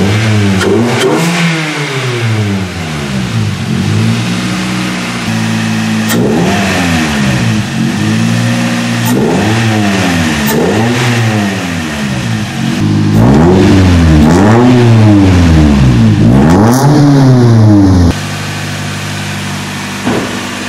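A Toyota 1NZ-FE 1.5L engine with an upgraded throttle body revs repeatedly in rising and falling sweeps, loud and close, settling between blips with no talking.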